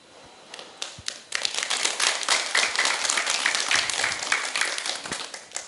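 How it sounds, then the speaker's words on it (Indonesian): Applause from an audience of schoolchildren and teachers after a drama about stopping bullying at an elementary school: a few scattered claps at first, then swelling into dense, lively clapping that holds steady, with some sharp individual claps standing out. "Tepuk tangan sekali lagi."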